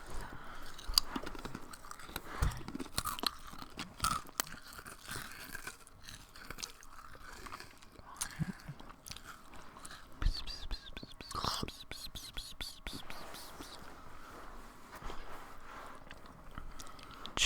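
Crunchy chewing and biting of a chocolate bunny close to the microphone, irregular wet bites and munching over several seconds with whispery breaths and low voices around it.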